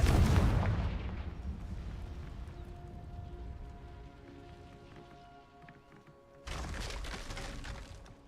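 Spell blasts in Hogwarts Legacy: a loud fiery burst at the start, a lingering crackling, rumbling decay with a faint magical hum, then a second strong burst of noisy impact near the end.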